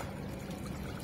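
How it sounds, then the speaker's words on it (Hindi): Water is poured into a container on a factory rooftop to fill it for pigeons, a brief, steady splashing pour at moderate volume. "मैं कबूतर के लिए पानी भर रहा हूँ"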